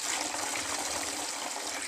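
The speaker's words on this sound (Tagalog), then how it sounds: "Huhugasan na po natin siya. Sisimulan na po natin siyang hugasan." Rice being washed with water inside a rice cooker pot, a steady close wash of sloshing, gushing water that fills the short moment without a break.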